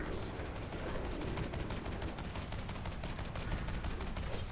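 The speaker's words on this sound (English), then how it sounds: "I'm gonna throw a grenade on the boss" A grenade goes off at a boss in the video game World of Warcraft, heard as a dense, sustained burst of rapid explosive cracks and gunfire-like noise at steady loudness, with no voices.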